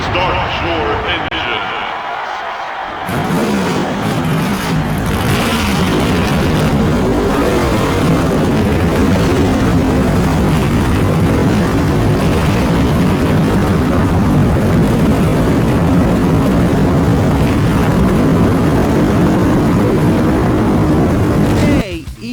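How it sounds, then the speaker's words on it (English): Stock car engines roar in an EA NASCAR racing video game at Darlington Raceway, a loud, dense, sustained drone that swells in after a brief quieter opening and continues steadily to the end. "Gentlemen, start your engine."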